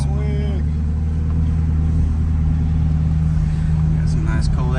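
A Chevrolet Corvette C8 driving after a transmission replacement, its engine a steady low hum heard from inside the cabin under road noise while people talk.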